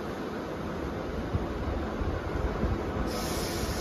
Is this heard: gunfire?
no